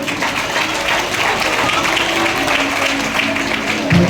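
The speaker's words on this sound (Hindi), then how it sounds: "जितने लोग सो रहे जोर से ताली बजा दो ना।" A congregation at an all-night Sunday church meeting claps loudly and steadily for about four seconds, a thick wall of applause with a voice faintly present underneath.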